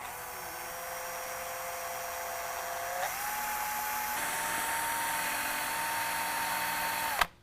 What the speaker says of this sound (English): we're going to drill a 1/8 inch hole in the top hole in our bracket